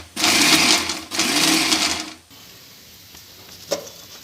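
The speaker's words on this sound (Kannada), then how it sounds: "ಇದನ್ನು ಸ್ವಲ್ಪ ದಪ್ಪಗೆ ಮಿಕ್ಸಿ ಮಾಡ್ಕೊತೀನಿ" Mixer grinder coarsely grinding mint leaves, a loud whirring motor roar in two bursts with a brief pause between, then stopping and leaving only faint clinks.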